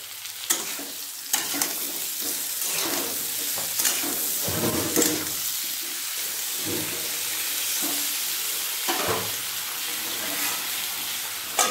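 Eggplant pieces fry in a pan and get stirred, a loud, steady sizzle broken by repeated scraping and clattering stirs near the listener.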